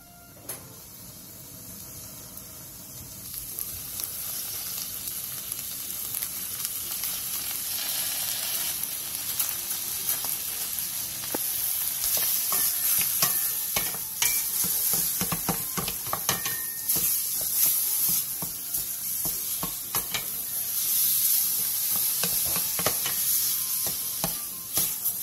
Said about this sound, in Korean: 냄비에 참기름 1스푼을 두른 뒤 소고기 양지 300g, 다진 마늘 반스푼, 국간장 2스푼, 소주 1스푼을 넣고 센 불에서 볶아주세요